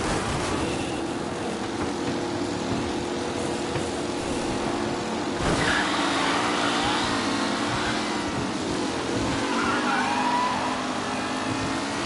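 A pack of race cars pulls away in the video game Mafia, engines droning in a loud, sustained roar with a sharp surge of revving partway through.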